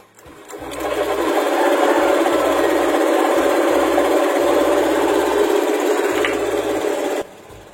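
A motorcycle engine fires up on its starter button and settles into a steady, loud, close idle with a rapid mechanical chatter for several seconds before cutting off.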